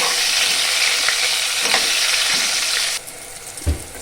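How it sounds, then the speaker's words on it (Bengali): Eggplant pieces fry in a pan with a loud, dense sizzle and stirring scrapes; the hiss drops abruptly near the end, followed by a brief low knock. "বেগুনগুলোকে এইভাবে আমি লাল লাল করে ভেজে তুলে নেব"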